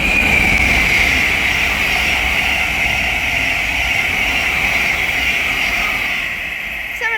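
A Thameslink Class 700 electric train passes by at Welwyn Garden City on the East Coast Main Line, a steady loud rushing roar with a sustained high whine, fading slightly near the end.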